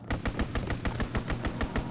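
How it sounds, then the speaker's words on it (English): Enemy aircraft strafe the ground in the Call of Duty WWII game. A rapid, evenly spaced burst of about a dozen gunshots hammers out at a steady rhythm, moderately loud with no talk. "Enemy strafing run incoming."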